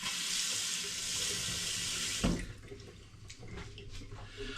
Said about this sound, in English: I'm just going to give it another rinse because I've touched it.